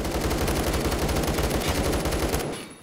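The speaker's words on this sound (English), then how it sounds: "I'm getting shot at." Rapid automatic gunfire in the Roblox shooter Phantom Forces on Xbox One, a loud continuous burst of closely spaced shots lasting a few seconds before cutting off, with no talking.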